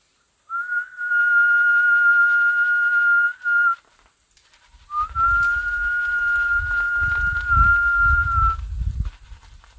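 A person whistles a long steady tone, pauses briefly, then whistles another sustained note while low rumbling wind noise builds underneath.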